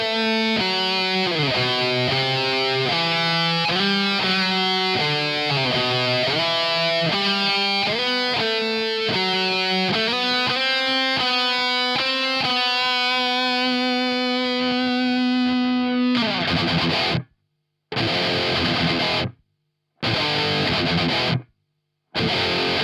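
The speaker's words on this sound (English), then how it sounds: "this is what happens if you add some delay" Electric guitar played through a Marshall DSL 20H with a Gary Holt boost and delay, a distorted lead line of fast notes with echoing repeats, ending in a sustained note and then a few short, choppy bursts.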